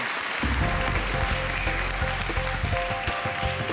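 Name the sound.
audience round of applause at an awards ceremony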